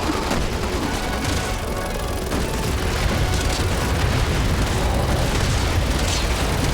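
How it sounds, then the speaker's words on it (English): Rockets exploding on the Simmons boss in Resident Evil, a dense continuous roar of overlapping blasts and rumble, loud and unbroken throughout. "About to put in a bunch of rockets into him."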